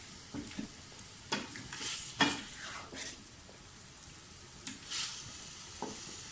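Fresh red tomatoes sautéing for tamatar gosht, with soft sizzling and intermittent scrapes of a spoon stirring in the pan, fairly quiet and close.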